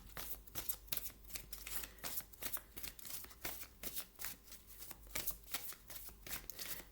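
Oracle cards shuffled by hand in a steady run of crisp riffling bursts and soft slaps, close and fairly quiet, with no talking.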